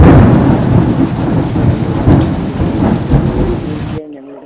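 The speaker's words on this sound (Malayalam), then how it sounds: "മോനെ അത് രാത്രി മഴയാ." Night rain with thunder: a loud, dense downpour with deep rumbling rolls running continuously before cutting off abruptly near the end.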